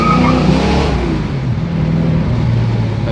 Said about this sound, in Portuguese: É bem fortinho esse carro, né? Acelerou, gritou.